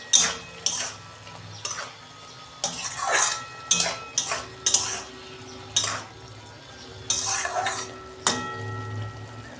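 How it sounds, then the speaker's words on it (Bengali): A pot lid clatters and scrapes during the cooking of red amaranth greens, with several loud metallic knocks and clinks spread across the span and a low sizzle underneath. "ঢাকনা খুলছি।"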